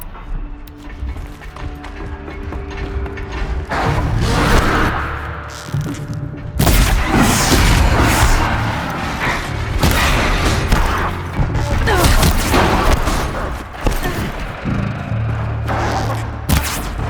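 Gunfire and explosions in the video game Horizon Zero Dawn, a loud, dense barrage of crackling shots and heavy booms that runs almost without a break, with rumbling low impacts swelling and fading across the whole stretch.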